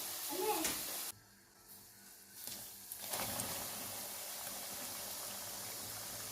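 Albanian-style liver frying in a pan, a soft, steady sizzle with brief stirring scrapes; it dips quiet for a moment, then resumes as a low continuous crackle, fairly faint.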